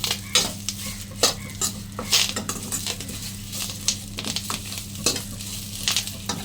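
Curry leaves crackle and sizzle in hot oil while a utensil scrapes and taps the pan in irregular strokes, close up.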